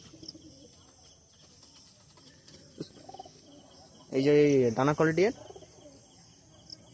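Small pigeons in a home loft give a close, throaty cooing call lasting about a second, set against a quiet room with faint chirps and someone speaking briefly before it.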